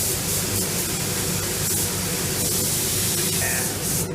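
A paint spray gun hisses steadily and loudly at close range, laying down a silver base coat for metal flake paint in one continuous spray with no pauses and no voices.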